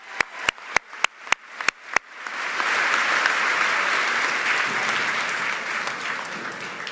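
Applause for the Chamber Singers at a high school commencement: a few sharp, evenly spaced claps from a single nearby person, then a broad crowd joining in with sustained, dense clapping that continues to the end.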